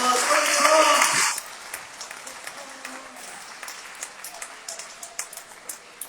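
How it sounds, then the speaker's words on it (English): A crowd at a vegan awards event cheers loudly and briefly, then settles into lighter, scattered clapping with distinct individual claps. The clapping continues at moderate volume for several seconds. "a round of applause for the tongs!"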